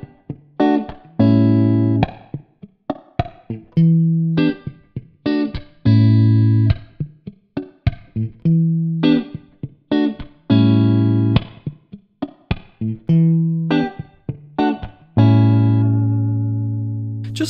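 Electric guitar played through an IK Multimedia X-Drive distortion pedal with onboard cabinet simulation, recorded direct: loud, crunchy distorted chords and riffs in a chopped rhythm with short stops and sustained ringing chords, no talking.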